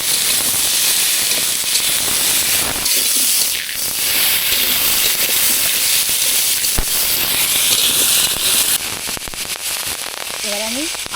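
Potatoes tipped into hot oil in a kadai for a Bengali silver carp curry, giving a loud, steady sizzle and hiss that lasts throughout, with a brief voice near the end.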